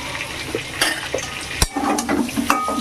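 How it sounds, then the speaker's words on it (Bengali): Cumin paste frying with potatoes and pointed gourd in a pan, a gentle sizzle broken by spatula scrapes, clinks against the pan and one sharp knock, close and without speech. "জিরে বাটাটা একটু ভেজে নিব আলু পটলের সঙ্গে।"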